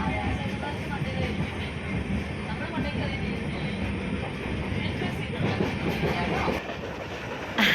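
A passenger train rolls along the rails with a dense, continuous rumble and steady clatter from inside the carriage, loud and unbroken throughout, with a brief louder surge at the end.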